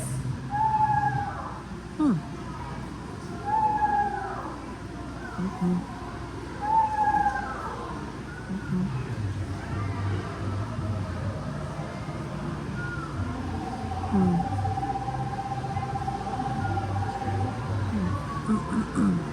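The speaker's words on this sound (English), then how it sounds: "They make more of a wavering whistle sound," Soft wavering whistles of an eastern screech owl repeat several times at intervals, with a person talking over them throughout.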